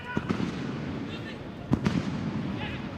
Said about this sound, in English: Fireworks continue to explode outside the stadium.